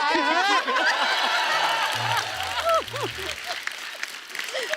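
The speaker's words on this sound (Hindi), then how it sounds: "पापा क्या ताली बजा रहे हैं" Applause and laughter from a comedy show studio audience, clapping mixed with chuckles and overlapping speech, with a low musical sting partway through.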